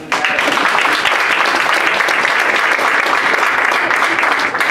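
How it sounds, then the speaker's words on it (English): An audience at a student leadership academy workshop applauds in a dense, loud, sustained burst of clapping that stays even throughout, with a faint voice underneath. "So let's give a round of applause to that."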